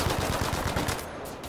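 Battlefield V Firestorm gunfire during a siege of Odenham, a dense, loud automatic burst of rapid shots filling the short moment without talk.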